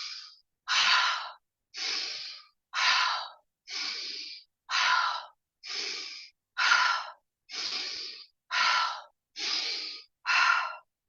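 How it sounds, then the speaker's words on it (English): Steady in-and-out breathing close to the microphone, a dozen evenly spaced breathy pulses of about a second each with brief silences between, fairly loud and alone. "Breathe in and breathe out."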